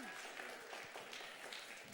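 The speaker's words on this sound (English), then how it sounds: "That would be nice if you guys could, like, clap for me" A chapel audience of middle school students claps for a speaker, a short, dense burst of applause that fills the room at an even, moderate level throughout.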